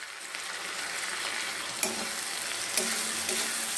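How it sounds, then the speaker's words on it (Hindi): Chopped tomatoes with garlic paste fry in a pan for a dhaba-style sabut moong dal, giving a steady close sizzle broken by two sharp clinks of a spoon, with no voices. "टमाटर, गार्लिक पेस्ट सभी अच्छे से भून जाएंगे, पकने देते हैं।"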